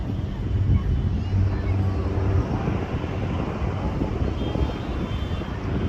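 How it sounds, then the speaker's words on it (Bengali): A helicopter flies over the sea beach at Puri, a steady droning engine roar with buffeting wind noise on the microphone that holds at a constant level throughout. "Helicopter helicopter."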